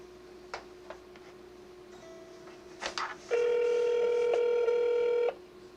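A phone sounds a few short clicks and taps, then a steady electronic tone holds for about two seconds before cutting off, close and fairly loud.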